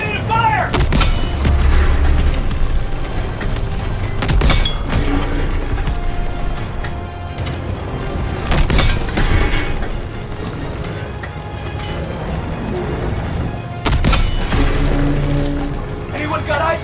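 Gunfire and artillery in the video game Call of Duty: WWII, repeated sharp shots and heavy booms scattered across a rumbling battlefield, with soldiers' voices calling out over the fighting.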